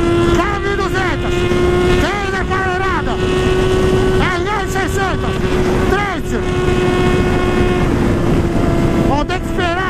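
A motorcycle engine, a Honda Hornet on a road, drones with a steady tone and rises and falls as it revs, close and loud, with wind buffeting throughout.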